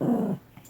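A puppy named Nala growls low and rough for about a third of a second, then falls quiet before a faint snuffle at the end, close by indoors.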